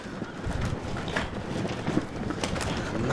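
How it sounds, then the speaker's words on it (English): A strong gust of wind buffets the microphone at an outdoor women's cricket match between the Netherlands and Scotland, a steady loud rumbling roar with choppy flutters that continues without letup, with no voices heard. "A massive gust of wind again, hitting our commentary position and hitting the field"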